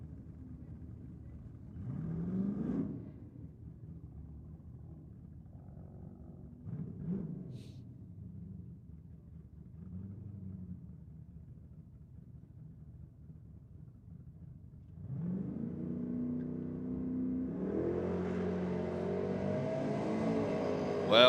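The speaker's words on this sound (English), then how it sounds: "Well, both cars trying real hard." Drag racing cars at Sydney Dragway: a low, distant engine rumble with a few swells, then a sustained roar that builds and grows louder as the cars accelerate hard over the final several seconds.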